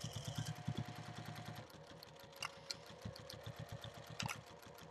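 A sewing machine stitches in the ditch along the seam of a sling bag, its needle thumping in a steady rapid rhythm close by, slowing slightly midway with a few light clicks over the top.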